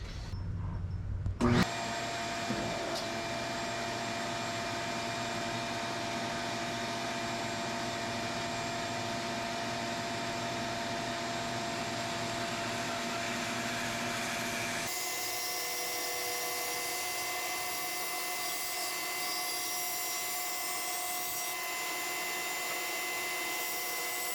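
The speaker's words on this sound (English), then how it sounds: "let me take it over to the bandsaw and do some cutting" A bandsaw starts with a clunk and then runs loud and steady while cutting a wooden block for a turkey call, its dense whining roar changing tone midway as the cut proceeds, with no talk.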